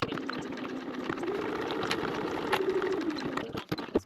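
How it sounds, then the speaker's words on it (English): A sewing machine runs a basting stitch across a lining piece for a bag, a fairly quiet, steady mechanical whirr close by that tapers off with a few small clicks at the end. "back to your machine and just baste that in place"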